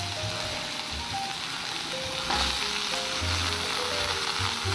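Vegetables sautéing in a pan for vermicelli upma, a continuous close sizzle with faint stirring and a few brief tonal sounds in the background, no voices.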